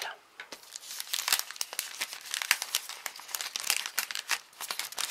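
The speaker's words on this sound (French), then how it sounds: "prendre une pochette plastique. Glisser votre boule dedans." A plastic sleeve crinkles and rustles steadily as a decorated ball is slipped inside, with dense crackling handling noise close up and continuing throughout without talk.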